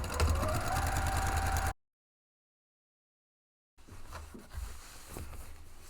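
A sewing machine joins the corduroy side panels of a bag interior with a 5/8 inch seam allowance, a close, steady whirr that cuts out, leaves two seconds of silence, then returns more quietly with light handling noises.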